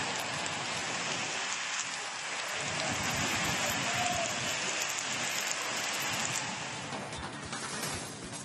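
Heavy monsoon rain pouring down in Mysuru district, Karnataka, in a dense, continuous hiss, steady and loud throughout with no voices.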